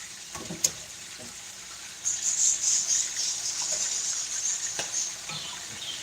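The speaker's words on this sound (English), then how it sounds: "You hear the bubbling? Just make sure your face is away from the bubbling because they can burn you." Pork chops sizzle and bubble in hot oil in a home kitchen pan, a steady crackling hiss that starts loud about two seconds in and continues, with a few soft clinks before it.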